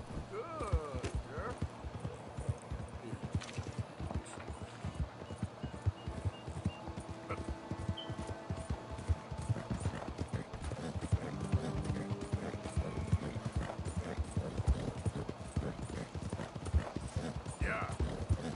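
Steady clip-clop of horse hooves at a walking pace in the video game Red Dead Redemption 2, with someone talking over them now and then.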